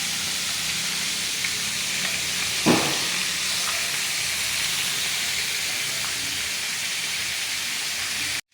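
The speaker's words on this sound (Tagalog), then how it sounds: "habang nagpiprito tayo" Food fries in a kawali, a wok-like pan, with a steady close sizzle and hiss. One brief louder crackle stands out partway through, and no one speaks.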